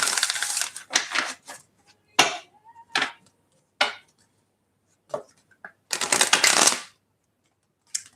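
Oracle cards are shuffled up close in sharp, papery bursts, separate riffles and slaps with short pauses between them, ending in a longer, fuller shuffle.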